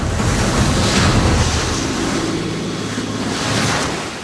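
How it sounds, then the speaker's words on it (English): Ocean swell and strong wind roar around a high-speed twin-engine RIB boat at sea, a loud, steady rushing wash with buffeting gusts on the microphone and no voices. "The high-speed twin-engine rib has to battle through the swell while the team do their best to hang on"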